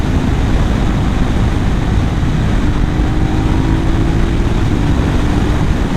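A KTM Duke 790 motorcycle fitted with a K&N air filter runs loud and close, its engine holding a constant dense roar with slight pitch rises as it spins up freely.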